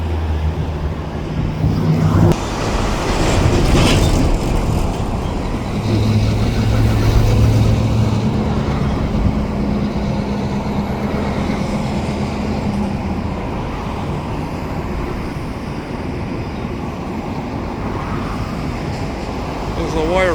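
SW900 switcher locomotives and a slug idle and rumble at a rail yard in New Westminster, a low diesel drone under distant traffic and someone talking.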